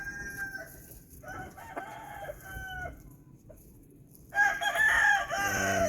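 Several game roosters in a pen built from pallets crow one after another, close and clear, with a louder overlapping crow near the end, in a farm setting after a winter ice storm.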